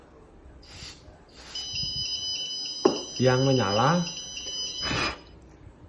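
A steady high-pitched electronic buzzer tone from a gas leak detector sounds continuously while a person talks over it, the beeping persisting beneath the speech.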